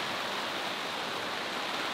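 Steady rain falls at a hilltop campsite at Bukit Cemara in Bali, a dense, even hiss with no distinct drops or breaks, moderately quiet and continuous throughout.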